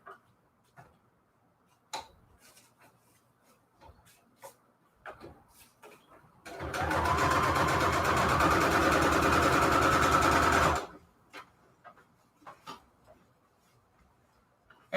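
A sewing machine stitching shabby chic fabric onto receipt paper runs in one steady, fairly loud burst of about four seconds, with scattered soft handling clicks and taps before and after.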